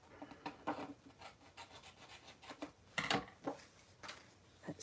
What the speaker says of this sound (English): So we're just going to trim off what we don't need